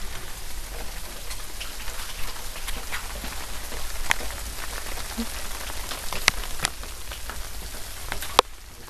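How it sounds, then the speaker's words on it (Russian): Light rain patters steadily outside an apartment on a warm summer day, a soft continuous hiss of drops on surfaces with a few sharper, nearer drips standing out now and then. No one speaks. "А у нас сегодня пошел небольшой такой дождичек."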